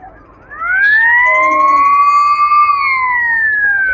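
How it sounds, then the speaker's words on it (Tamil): A boat's loud electronic alarm siren wails close by on the Ganges at Varanasi, rising in pitch, holding a steady tone, then sliding downward, with no voices. "இந்த போட்டோட அலாரம் தான் அது"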